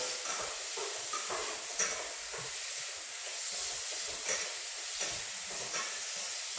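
Food sizzles in a hot oiled pan while being stirred, a steady bright hiss with soft intermittent scrapes and clinks, close and moderate in level, no voices.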